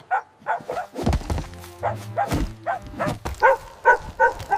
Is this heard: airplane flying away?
no